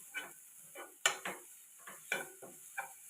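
Grated coconut and shallots sauté in a pan after mustard seeds have spluttered, heard as a quiet series of spaced stirring scrapes and soft sizzling bursts, roughly six strokes in a few seconds, with no talking.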